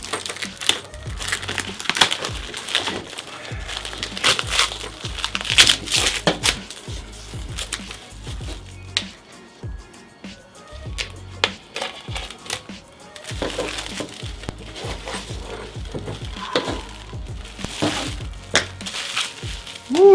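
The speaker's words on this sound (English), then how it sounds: "I'm gonna unwrap it here." Crinkly packaging is torn and unwrapped from a Creality CR-10S 3D printer part, with close crackling, rustling and crunching in irregular bursts that run on for some time with short lulls.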